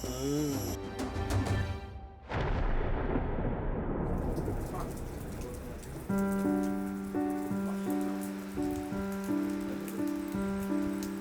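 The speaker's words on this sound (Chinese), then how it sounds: "我发觉差不多就是这个时间，一定会下雨的" Heavy rain falls steadily on surfaces with a dense, hissing wash. A sharp crack and rumble like thunder breaks in early, and a tonal hum or music comes in under the downpour later.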